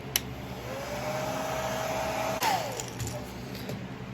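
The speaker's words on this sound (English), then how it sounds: "Now we hit it with the hair dryer." A hair dryer blows steadily nearby on a freshly painted fishing lure, its motor whine holding a tone that shifts slightly, with a brief clack partway through.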